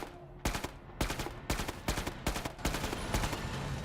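Bursts of gunfire from an inaccurate gun in Killing Floor 2, a series of loud, sharp shots in irregular clusters spaced roughly half a second apart, close and dominant with no talk over them.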